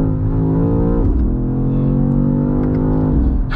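A 2023 BMW XM plug-in hybrid SUV drives with a steady, loud engine drone, its pitch holding then dropping during a quick gear shift, followed by another rise and shift near the end.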